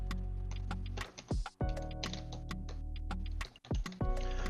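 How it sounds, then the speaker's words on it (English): Keys clatter on a new computer keyboard in rapid, irregular bursts of light clicks with brief pauses, fairly quiet and close, with no talking. "sorry, my typing is slow"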